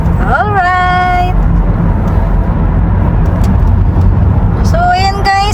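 A hybrid car cruises along an expressway with a loud, steady rush of road and engine noise throughout, and brief tonal sweeps rise near the start and again near the end.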